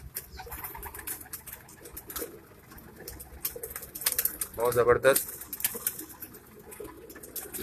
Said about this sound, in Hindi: किंग साइज कबूतर है ये,